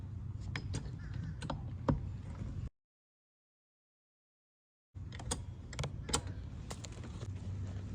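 A pull-out sofa bed mechanism being pulled back, giving close metallic clicks and creaks over steady low rumble, broken by a stretch of silence in the middle.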